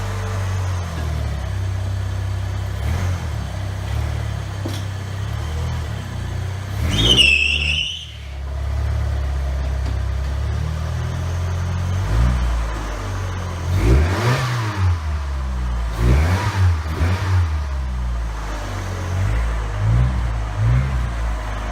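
A Ford Mustang engine runs healthy and knock-free at a steady rumbling idle, with throaty revs climbing sharply around the middle and a cluster of repeated rev bursts later, loud and close with no talking.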